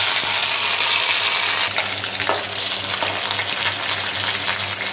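Salt and a bay leaf crackling in very hot oil over sputtering mustard-style tempering for a Bengali malai chalkumro (ash gourd) dish, a steady close, loud sizzle with brief sharper pops.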